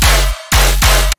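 Playback of a mastered tearout dubstep track delivers three loud, heavy bass-laden blasts in quick succession, then cuts abruptly to silence.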